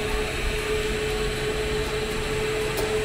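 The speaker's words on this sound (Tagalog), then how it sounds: "Malakas kasi yung blower." A steady blower hums inside a homemade incubator with coil heaters, a constant whirring drone with a faint tonal whine and no change throughout.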